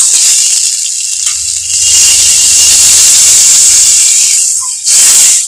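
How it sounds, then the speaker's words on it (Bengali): Water poured into a pan of frying fish curry hisses loudly with steam, a strong steady sizzle that swells again in a fresh burst at the end. "আমি জল দিয়ে দিচ্ছি।"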